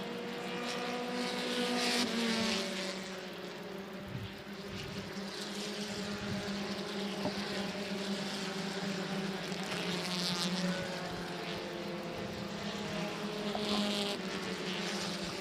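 Race cars roar around a track, several engines whining and droning at once, rising and fading as they pass at moderate distance, with one machine trailing smoke.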